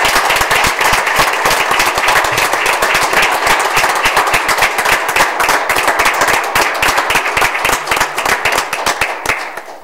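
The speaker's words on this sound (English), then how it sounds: "Everybody, let's give Dan a round of applause." Hearty applause from the crowd at a Springfield Township trustees meeting, honoring a resident named Dan: dense, steady clapping that fills the room for about ten seconds before tapering off slightly at the end.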